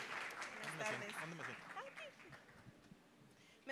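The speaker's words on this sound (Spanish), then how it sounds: "Un aplauso, por favor" Attendees at a corporate technology forum give a round of applause for a bank's technology director, a soft, steady patter of clapping heard beneath a speaker's voice that dies away near the end.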